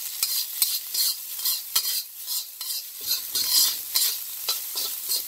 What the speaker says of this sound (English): Throw the rice in there with a little bit of oil, as I demonstrated, you saw it. So we're gonna toss this rice up.